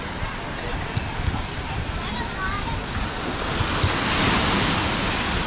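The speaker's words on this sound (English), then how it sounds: "It's actually a nice calm ocean here." Calm ocean waves at a Rio de Janeiro beach wash steadily in a continuous broad surf roar mixed with wind, rising slightly toward the end.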